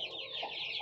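A chicken clucks close by in a quick run of sharp, rising calls, loud and clear with no talk over it.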